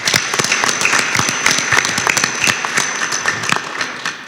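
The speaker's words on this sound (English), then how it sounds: "So let's give her another round of applause." Steady, dense applause from an audience at a school board meeting, many hands clapping at close range without a break, loud and sustained with no talking over it.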